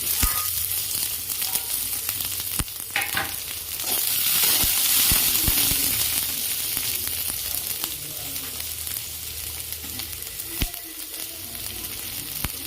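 Curry leaves, dried red chillies and large onion fry in a pan for a Tamil cabbage poriyal, a steady close sizzle with occasional sharp crackles and spatters, no voices.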